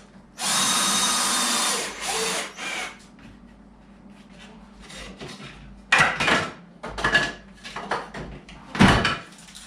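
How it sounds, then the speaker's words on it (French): A power drill drives screws into a wooden headboard: one long steady whir, then shorter bursts of drilling with knocks and rubbing from handling the wood, close and loud. "je visse."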